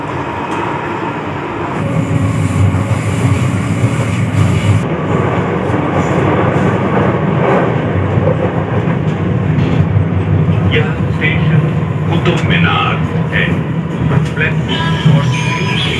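A Delhi Metro Yellow Line train rumbles steadily throughout, with a constant low roar of wheels on track and faint voices in the carriage.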